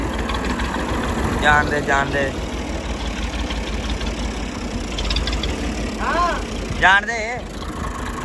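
A tractor engine idles with a constant low rumble close by, as several voices shout over it.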